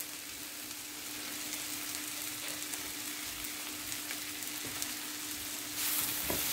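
Cabbage stir fry with egg sizzles in a pan as it is stirred, a steady close hiss with scattered light scraping ticks and a brief louder rustle near the end.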